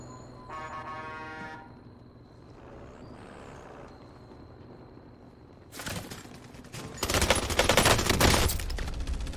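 Gunfire in the battle-royale shooter Warzone: a quiet stretch of game sounds breaks into loud, dense bursts of automatic weapon fire that build into a sustained, close barrage toward the end.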